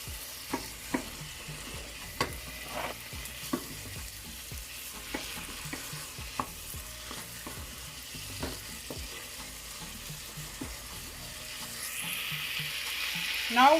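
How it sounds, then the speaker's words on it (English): Curry powder and turmeric sizzle in hot oil in a pan, a steady close frying hiss broken by sharp clicks of a spoon stirring, running on alone with no talk. "let this fry up for a minute"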